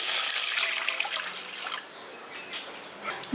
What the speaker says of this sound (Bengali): এবার কড়াইয়ের মধ্যে আমি জল দিয়ে দিচ্ছি